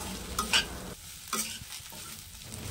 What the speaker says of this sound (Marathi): पुन्हा आपल्याला हे सर्व मिश्रण एकत्रित होईपर्यंत चांगले भाजून घ्यायचे आहे